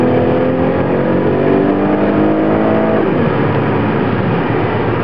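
A 2012 Lincoln MKZ driven fast at about twice the recommended speed gives a loud, continuous engine and road roar, its pitch climbing steadily and then dropping as it shifts.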